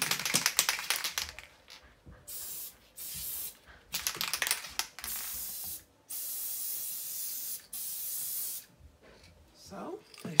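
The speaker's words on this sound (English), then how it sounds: "and I'm going to spray." A spray can hisses in a series of separate bursts, some short and some held for a second or more, as it coats a paper graduation fan held over a recycling bin. Each burst is close and sharp, with quiet gaps between them.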